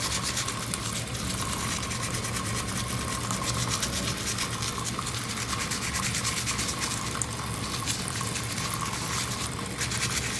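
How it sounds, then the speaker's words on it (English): A soapy brush scrubs a polished crystal under running water, giving a steady, continuous wet rubbing and swishing that runs unbroken from start to finish at close range, with no voices. "put some soap on my brush. I'm gonna scrub, scrub, scrub."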